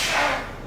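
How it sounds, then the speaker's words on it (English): A silo gate opens and closes while it dumps, giving one short, breathy pneumatic psh-like hiss heard clearly for under a second. "That's the silo opening and closing as it's dumping."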